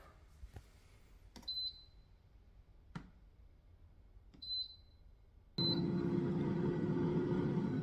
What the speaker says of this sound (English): now back into the air fryer.